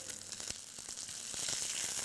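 Chicken browning in a pan, a quiet bright sizzle with faint crackles and scattered small pops throughout.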